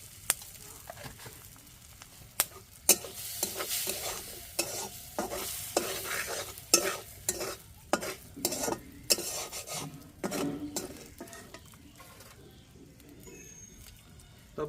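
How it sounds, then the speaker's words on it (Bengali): Chopped onions fry in a pan with turmeric and salt, a steady sizzle broken by repeated scraping and clinking stirs from a spoon against the metal, close and moderately loud with no talking. "পেঁয়াজগুলো ভাজা হয়ে গেছে, এত ভাজা হয়েছে প্রায় সেদ্ধ হয়ে গেছে"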